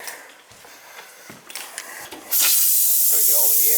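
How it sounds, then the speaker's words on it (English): Air hisses loudly and steadily out of a cottage water tank, starting abruptly after a stretch of quiet handling noises, close and continuous to the end. "Gotta get all the air out of the water tank."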